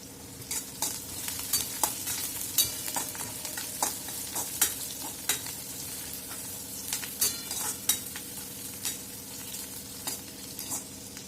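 Onion fries in a pan until pink, a constant close sizzle under frequent light scraping and tapping of a stirring spoon in an uneven rhythm. No one speaks.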